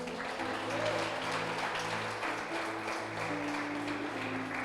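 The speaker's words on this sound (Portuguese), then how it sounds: "Você pode dar uma ação de palmas para Jesus?" A church congregation claps for Jesus at a worship service, steady broadband applause filling the room over sustained music tones, continuous and moderately loud throughout.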